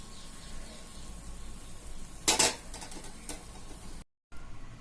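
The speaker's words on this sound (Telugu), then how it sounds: "ఇలా మరిగిన తర్వాత ఒక డ్రాప్ అనేది వేసి చూస్తే మనకి ఆయిల్ బాగా హీట్ అయిందో లేదా అనేది తెలుస్తుంది" A single drop of boondi batter hits hot frying oil with a short, bright crackling sizzle partway through, followed by a few faint ticks against a quiet kitchen background.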